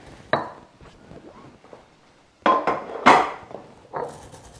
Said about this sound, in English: Okay, so our spices have toasted up nicely. I'm just going to grind them up.